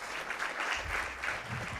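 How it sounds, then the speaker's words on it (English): An audience at a content marketing summit and awards event applauds the award winners, producing dense, steady applause from many hands throughout. "Let's give them a big round of applause"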